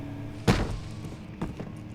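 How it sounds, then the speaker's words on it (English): A single loud, heavy thump of a book dropping in Amnesia: The Dark Descent, a sharp close impact with a short rumbling tail, followed by a quieter knock or two in a dim, hushed room. "That was a loud thump for a book."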